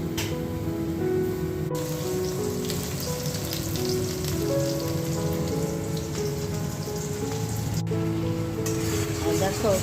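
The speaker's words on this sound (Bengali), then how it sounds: "আলু ভেজে নিয়ে ওই কড়াইয়ে গোটা গরম মশলা দিয়ে ক্যাপসিকামগুলো দিয়ে একটু ভেজে নিয়ে বাটা মশলাটা দিয়ে এখন আমি এটা কষিয়ে নিচ্ছি" Fried potatoes, capsicum, whole garam masala and ground spice paste sizzle and sauté in a kadai wok, a continuous close crackling hiss with rain-like spatter that runs steadily throughout.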